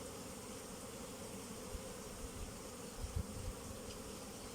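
Honey bees at an opened hive make a soft, continuous buzzing drone that stays steady throughout, with a few faint bumps and handling noises nearby.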